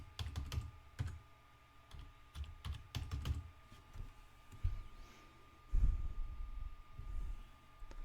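Computer keyboard keys tapped in short irregular bursts while entering a login name and password, fairly quiet and close, with brief pauses between runs of keystrokes.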